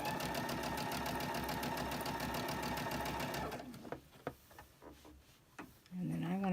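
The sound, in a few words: sewing machine stitching quilt fabric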